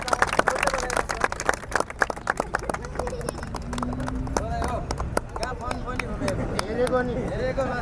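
A small audience claps after a magic trick, a burst of sharp, irregular hand claps that rises then thins out, with voices talking over and after it.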